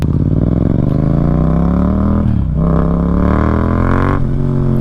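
A 2024 Yamaha MT-07 motorcycle's exhaust note while riding, loud and close, rising through the gears in two long revving pulls with a short dip between shifts.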